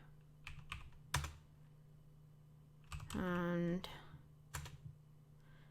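Quick keystrokes on a computer keyboard during network router configuration, coming in short scattered bursts of clicks, with a brief electronic beep partway through and a low steady hum underneath.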